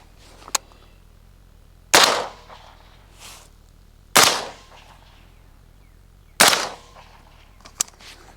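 Three sharp, loud rifle shots through a Griffin Armament HRT 3D-printed suppressor on a 5.56 rifle at an outdoor berm, each about two seconds apart with a brief ringing tail and a few faint clicks between.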